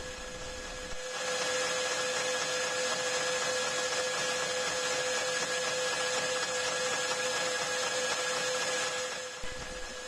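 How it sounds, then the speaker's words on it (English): A metal lathe makes facing passes on a bandsaw-cut metal part, a steady whirring hum with a sustained tonal whine that begins about a second in and cuts off shortly before the end. "Make initial facing passes on the part, removing any rough surfaces from the bandsaw."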